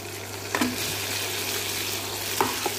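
Onion and tomato sautéing in a pan for a Tamil-style karuvattu kulambu with yam: a steady soft sizzle throughout, close by, with a couple of faint scraping stirs.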